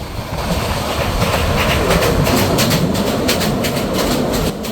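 Parjotak Express passenger train crossing the Ghorashal railway bridge over the Shitalakshya river, a loud, steady rumble with rapid clattering of wheels on the bridge track, heard close from on board.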